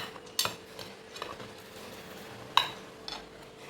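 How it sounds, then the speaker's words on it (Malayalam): A metal plate is set over a pot of biryani made with ration rice in a home kitchen. Two sharp clanks of metal on metal ring out, with faint scraping and handling sounds in between, all close and fairly quiet. "ഈ ചോറ് പാത്രം കൊണ്ട് ഇങ്ങനെ മൂടുക"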